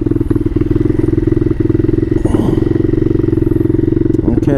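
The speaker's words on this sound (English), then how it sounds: "I just turned up the idle a little bit just right here." A Bashan Motomax 250 motorcycle fitted with a Nibbi PE30 carburetor idles nearby with a steady, loud, even engine putter, holding a constant rhythm throughout with no talking.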